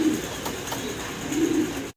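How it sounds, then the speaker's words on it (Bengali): A pair of fancy pigeons coos nearby, two low throaty coos at the start and again toward the end over a steady soft background hum, with no talk. "মাশাআল্লাহ এক জোড়া কবুতর দেখাচ্ছি"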